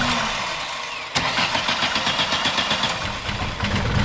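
A 2000 Ford Contour's 2.0 engine catches after a short crank and settles into a rough, loping idle close by, its uneven pulses audible from a faulty intake condition.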